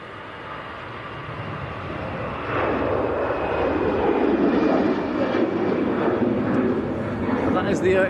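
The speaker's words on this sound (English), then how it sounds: "That is the EasyJet A321 that's just arrived." EasyJet Airbus A321neo arriving at Manchester Airport, a broad engine rumble that grows louder partway through and holds steady, fairly close and unbroken.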